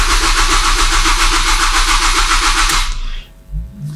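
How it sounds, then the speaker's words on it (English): A car engine fitted with aftermarket fuel injection management and a 36-1 trigger wheel is cranked by the starter motor in a loud, rhythmic chugging for nearly three seconds, then stops abruptly. "So let's spin the engine over and see what happens."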